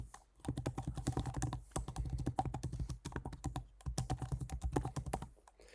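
Keystrokes on a computer keyboard enter an email address during account sign-up, a dense, steady run of close, moderately quiet clicks with a few brief pauses and no talking.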